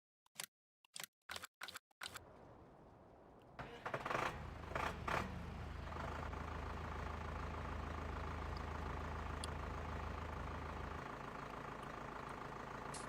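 Tractor in Farming Simulator 19 starts automatically: a few clicks, then the engine turns over and settles into a steady, fairly quiet idle that runs on, with no talk.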